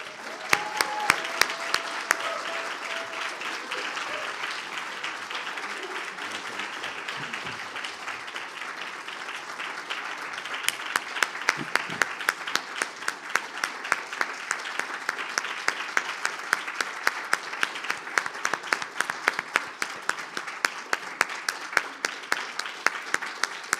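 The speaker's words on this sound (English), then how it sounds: "please could we give a round of applause for this Lifetime Achievement Award" Audience at a Retina 2022 public engagement awards event applauding a lifetime achievement award, sustained clapping from a crowd that grows stronger and sharper halfway through.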